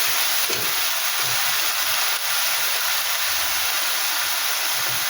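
Spice paste of onion, ginger, garlic, green chilli and tomato sizzles in hot oil for tilapia curry. The frying hiss is loud, steady and close, with no talk over it.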